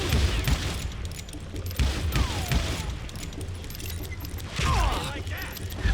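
Gunfire in the Western shooter Call of Juarez: Gunslinger: several sharp shots with booming tails over a dense, noisy game mix, with louder bursts near the start, middle and end.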